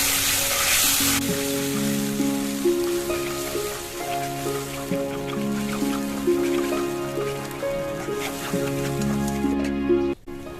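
Masala of ginger, bay leaf and garam masala fries in a little oil in a pan for an egg and potato curry. A close, steady sizzle crackles throughout over faint tonal background sound.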